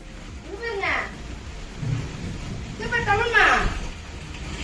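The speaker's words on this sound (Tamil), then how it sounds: "மழை பெய்யுது" Rain falls steadily with low rumbles of thunder, heard as a soft, continuous wash under children and adults talking nearby, the rumble swelling and fading.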